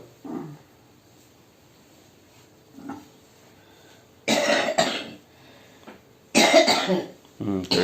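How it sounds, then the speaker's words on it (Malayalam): An older woman at home coughs in two harsh bursts, close and fairly loud, after a couple of faint throat sounds. "ചുമയുണ്ട്"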